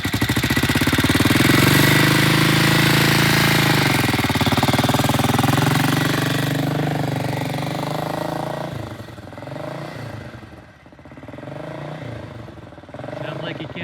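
Vintage British motorcycle engine on a test ride, a loud close rasping drone that revs and settles as gears change, then fades somewhat into lower, rougher running.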